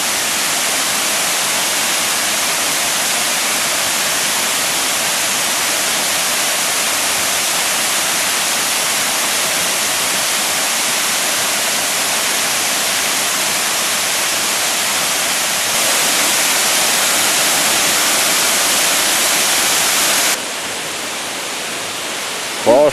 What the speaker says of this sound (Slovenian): Lep slap na črni granitni kamnini.